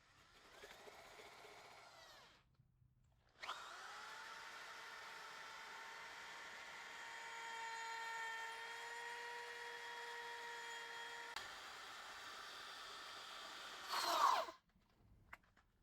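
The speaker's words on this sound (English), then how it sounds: "Now I'm just going to grind this down to flat metal." A power tool grinds a car frame down to bare metal to make room for a welded brake stay tab, a sustained steady whine lasting several seconds after a shorter first burst, loud and close with no talking.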